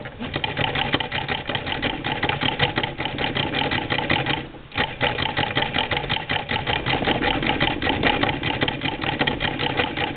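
A Singer Model 20 sewing machine stay-stitches the edge of fabric pieces, running with a continuous close rapid mechanical chatter that pauses briefly once midway before resuming, with no voices.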